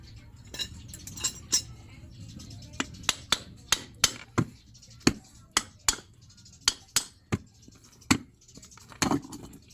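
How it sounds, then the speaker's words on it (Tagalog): A hammer strikes a metal part in a series of sharp, close, ringing knocks at a fairly steady pace, with a few louder blows and faint talk in the background. "Martilyo."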